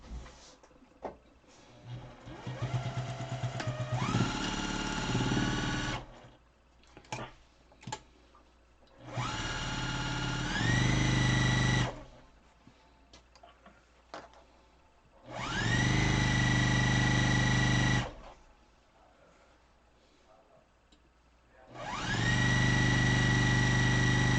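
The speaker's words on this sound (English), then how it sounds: "And then you're going to begin sewing it." Sewing machine stitching an N95 mask, running in four sustained whirring bursts of several seconds each, separated by quieter gaps with small handling sounds.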